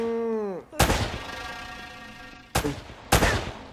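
Three loud, sharp gunshots from Uncharted: Drake's Fortune ring out with spaced, echoing tails, following a brief rising electronic tone at the start.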